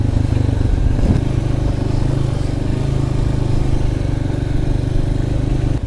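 Loncin Voge LX300GY A DS2 PRO motorcycle riding through city traffic in Zhytomyr, Ukraine, with a steady, loud engine drone and low rumble continuing throughout, mixed with wind and road noise and no talking.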